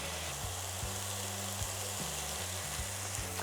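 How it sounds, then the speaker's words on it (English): Leek and bacon frying in butter in a pan on an electric stove, a steady close sizzle with occasional stirring scrapes and no talk. "So now we're going to let that cook until we see the leek soften"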